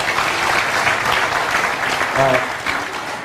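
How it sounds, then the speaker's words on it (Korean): Audience applause at a National Assembly debate on rice policy, a dense steady clatter of many hands filling the hall throughout, with a voice speaking briefly over it. "다시 한번 큰 박수 좀 부탁드리겠습니다"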